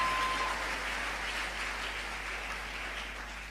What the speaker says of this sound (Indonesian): Saudaraku, tepuk tangan saudaraku.